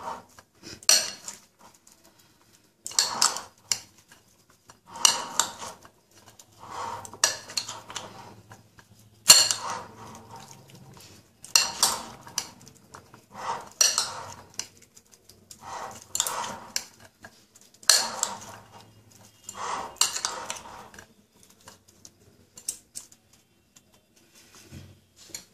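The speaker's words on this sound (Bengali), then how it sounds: "ভালো করে এটা মেশাতে হবে।" A spoon clinks and scrapes in a bowl while mixing aloo kabli ingredients. The bursts of rattling come in irregular spells separated by quiet pauses, close up and with no talk.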